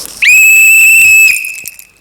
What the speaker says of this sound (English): I'll blow my whistle